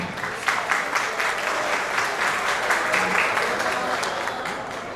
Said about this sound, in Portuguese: Por favor, uma calorosa salva de palmas para Thiago Monaldi.